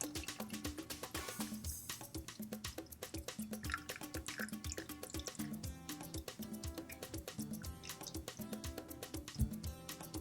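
The last coffee drips from a Jetboil coffee press at a motorcycle camp, a rapid, continuous run of small close drips and trickles, fairly quiet and steady throughout.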